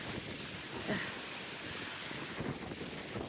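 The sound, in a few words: wind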